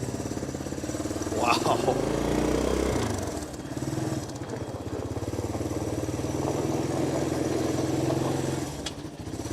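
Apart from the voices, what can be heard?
1984 Honda ATC200ES Big Red three-wheeler engine driving in gear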